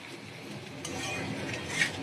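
Mixed vegetables with stalks being stir-fried in a pan: a soft, steady sizzle under scraping and stirring, with a few light clinks of a utensil against the pan, fairly quiet and close.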